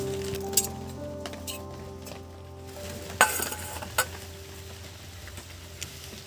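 White cooking oil poured into a pan while making Maggi noodles, with a soft sizzle and a few light clinks of metal on the pan. The sound stays quiet throughout.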